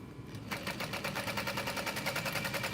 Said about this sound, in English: I'm starting with my stitch length set to 5 just to top stitch these handles